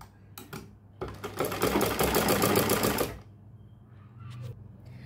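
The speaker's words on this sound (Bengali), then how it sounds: "তো আমি এটা আগে একটু এখানে সেলাই করে নিই, উল্টো দিকে আমি সেলাই করে নেব।" A sewing machine stitching a folded fabric sleeve: a couple of brief clicks, then a loud, rapid, continuous mechanical whirr of the needle for about two seconds, stopping abruptly into quiet.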